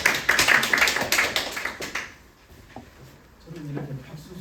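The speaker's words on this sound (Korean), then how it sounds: "저는 이렇게 박수 소리가 크면 좋아요" An audience at an indoor school information session claps loudly for about two seconds, a dense close patter that fades away, followed by a speaking voice.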